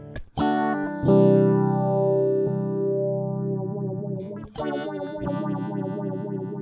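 An electric guitar is played through the Stone phaser effect in Native Instruments Guitar Rig: sustained distorted chords swirl with a sweeping phase shimmer, then choppier strummed notes follow, loud and alone with no talking.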